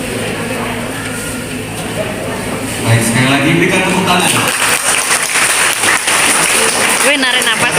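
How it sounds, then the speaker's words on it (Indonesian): Applause breaks out at a church wedding blessing, dense clapping rising after a few seconds and continuing loudly under voices and music in the hall. "Berikan tepuk tangan."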